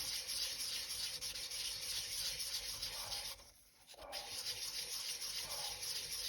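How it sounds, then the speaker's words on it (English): Steady hand sanding of a polymer clay bowl, going around the piece for a full, flat finish: continuous close abrasive rubbing with a brief pause near the middle, no talking. "I'm going to use this because this will ensure that I'm getting a full, flat sand."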